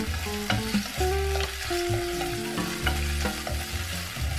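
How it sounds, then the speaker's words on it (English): Ginger, garlic and tempeh fry in hot oil in a pan, a loud close sizzle with scraping stir strokes and clinks throughout. "Clean the pan and add some cooking oil to it. Put the ginger, garlic, and some tempeh into the pan."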